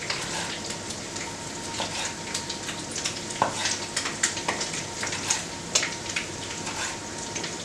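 Meat for kavurma sizzles steadily in hot fat on a saç pan, a dense crackling hiss with scattered pops and spatters, close by and with no talking.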